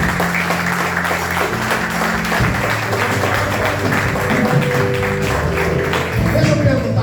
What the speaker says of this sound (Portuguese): Uma salva de palmas para a gente.